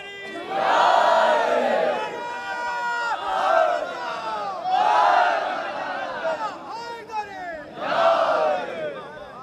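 A large crowd at a religious celebration at a dargah chants zindabad and murdabad slogans in loud, rhythmic bursts of massed voices rising and falling close by.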